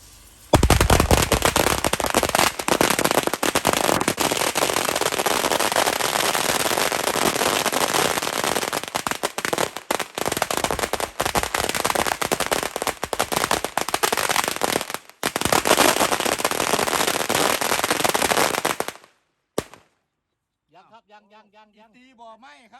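A long run of Thai firecrackers set off at a shrine, a dense, loud, continuous crackling of rapid pops for about nineteen seconds that cuts off abruptly, followed by someone speaking quietly.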